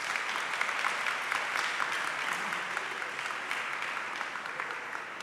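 A congregation at a thanksgiving mass for a graduating class claps steadily as the class president is called forward. The applause is full and continuous from start to finish, with no break.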